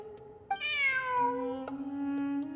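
A cat in Genshin Impact gives a clear, rising then falling meow, followed by a softer drawn-out mew, close and distinct against a quiet background.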